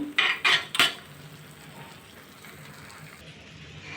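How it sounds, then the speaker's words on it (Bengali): A semolina mixture with mango is stirred in a pan over a low gas flame for a sweet: three sharp metal scrapes of the spoon against the pan come first, then a soft, steady sizzle and shuffle continues alone. "গ্যাসের ফ্লেমটা কমিয়ে দশ মিনিট ধরে আমি এইভাবে নাড়ছি"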